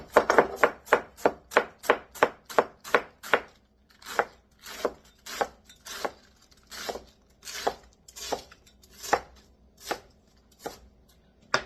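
A knife slices red cabbage into strips on a cutting board, with about two dozen crisp, crunchy cuts, fast and regular at first, then slower with short pauses, close and clear without talk.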